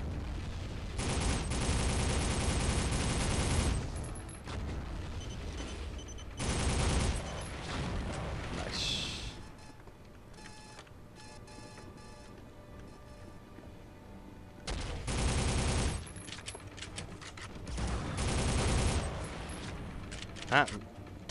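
A mounted turret in the Soldier of Fortune video game fires in long sustained bursts, with two loud stretches of rapid gunfire separated by quieter game ambience, and a voice speaks briefly between them.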